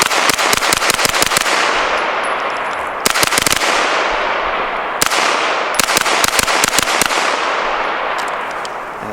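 Rapid bursts of suppressed gunfire from a SIG MPX with an 8-inch barrel fitted with a Dead Air Wolfman suppressor, loud, close strings of sharp shots in three quick volleys.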